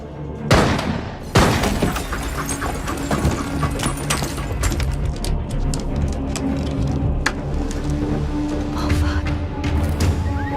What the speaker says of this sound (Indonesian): terdengar suara tembakan dari luar yang mengalihkan perhatian